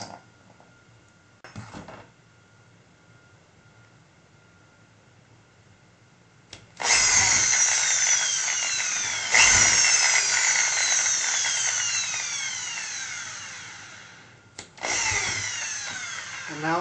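A power drill drives thin half-inch screws into wood to mount a hinge, with two short blips and then long, loud, steady whirring runs at close range that dip briefly before a final burst.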